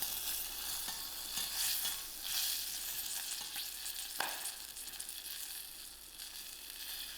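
Dried and green chilies and curry leaves sizzle in hot oil for a khaman tempering, a soft steady hiss with occasional crackles and a light stir, faint and alone.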